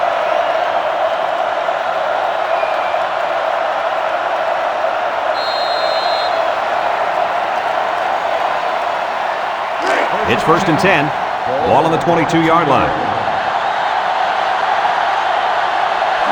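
Loud, steady stadium crowd roar from the NCAA 06 football video game, Vanderbilt at Tennessee, filling the whole stretch beneath a play-by-play commentator's voice, with brief crunching bursts of on-field action near the end.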